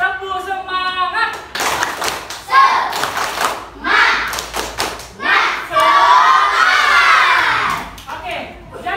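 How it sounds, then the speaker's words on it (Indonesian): Schoolchildren in an Indonesian classroom perform a rhythmic clapping cheer, tepuk semangat, with sharp patterned claps and thumps mixed with shouted, chanted voices and a long drawn-out group cry near the end. "kita tepuk semangat dulu ya. Tepuk semangat."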